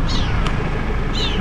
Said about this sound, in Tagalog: May pusa na sumusunod sa amin po ako naman.